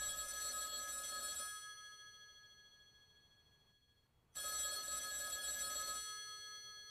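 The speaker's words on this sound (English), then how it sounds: "that phone over there is gonna ring" A telephone bell rings loudly, pauses for a couple of seconds, then rings again, clear and near with no voices.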